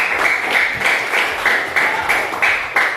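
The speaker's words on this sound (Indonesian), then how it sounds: "Tepuk tangan untuk teman kalian." Students in a classroom applauding a classmate during a maths lesson on fractions, clapping in a loose, bright, rhythmic unison, close and fairly loud, with no talking.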